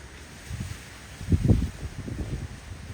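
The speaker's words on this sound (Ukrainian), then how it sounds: "вітер почався сильний" Low, gusting wind rumbles and buffets the microphone in uneven bursts, strongest in the middle, with no voices, in a garden in Kyiv Oblast in October.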